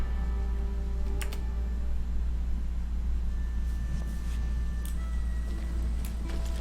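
Computer keyboard and mouse used for a Western shooter game, faint scattered clicks and taps under a loud steady low rumble of game sound, with no clear talk.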